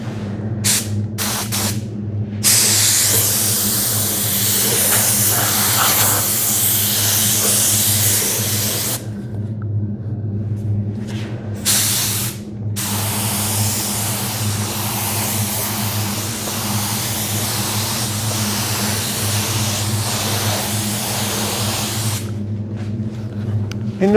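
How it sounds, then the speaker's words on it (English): A spray gun hisses steadily as it lays lacquer onto cabinets, loud and close, running in long continuous bursts broken by a few short pauses when the trigger is released. "And notice that I didn't just sit there and spray from a foot high."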